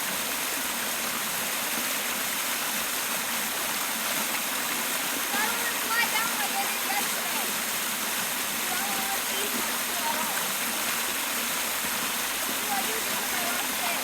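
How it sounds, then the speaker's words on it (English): Steady rushing water from a waterfall at Fall Run near Pittsburgh, a continuous broadband wash at moderate distance with no clear talk over it. "this is our day at the waterfall"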